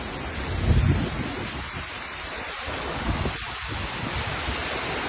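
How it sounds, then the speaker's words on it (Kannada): Heavy wind and rain at night at Nilakkal roar as a dense, steady wash of noise with gusty buffeting against the microphone, continuous and loud throughout with no voices. "ಸಿಕ್ಕಾಪಟ್ಟೆ ಗಾಳಿ, ಮಳೆ ನೋಡಿ"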